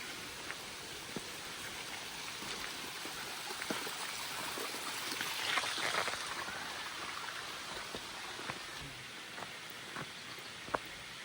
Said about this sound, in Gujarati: અને અહીંયા જો ઝરણાનો અવાજ આવે છે ને